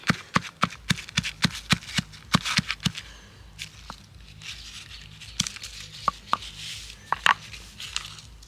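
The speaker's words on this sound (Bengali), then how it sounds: "কর্পূরটাকে কিন্তু আমি গুঁড়ো করে নিলাম" Camphor being crushed into powder by hand, a run of sharp crisp cracks and crunches in quick irregular bursts, close and clear, easing into softer grinding toward the end.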